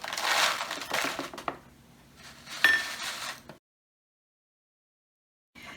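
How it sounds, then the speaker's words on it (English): Mini chocolate chips rattle and patter into a glass bottle in two short bursts, the second ending with a bright clink. Silence follows, and a brief faint noise comes at the end. "I'm just going to put in 1/4 of a cup of the chocolate chips"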